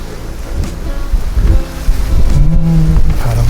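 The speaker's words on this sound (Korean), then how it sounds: "오늘은 바람이 참 좋네" Strong wind blows across a mountain walking trail on the Jirisan Dulle-gil, a loud, continuous rushing roar with gusty swells. A faint voice comes in briefly toward the end.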